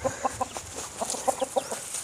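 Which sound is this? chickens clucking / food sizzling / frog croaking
chickens clucking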